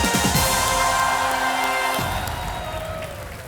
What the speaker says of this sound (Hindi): तालियों के साथ हम आपका स्वागत करते हैं।